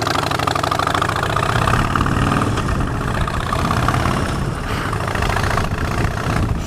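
A Harley-Davidson Street Bob Special motorcycle engine idling, a steady, loud, low lumpy rumble close up that continues without a break and with no voices.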